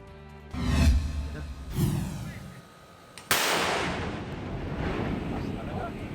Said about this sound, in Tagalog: Sunod-sunod na nagpapotok ng 155mm kano ng mga sundalo noong biyernes ng gabi.